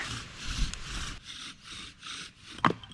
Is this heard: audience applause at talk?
no